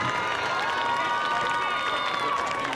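A crowd at a high school football game applauds and cheers the senior marching band members and their parents. The sound is a steady, moderately distant wash of clapping with sustained tones and voices beneath it.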